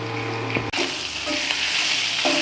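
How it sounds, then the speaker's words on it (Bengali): Fish head frying in a pan and being pounded apart with a spatula, a continuous loud sizzle broken by sharp knocks and scraping strokes. "ভালো করে ঠুকে ঠুকে মাছের মাথাটা ভেঙে দেওয়া হচ্ছে"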